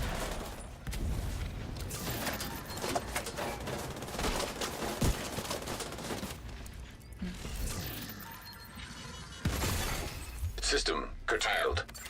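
Combat in The Division, with a grenade going off amid bursts of gunfire and clattering debris during a PvE fight with Warhounds; loud, dense and continuous, with talk running over it.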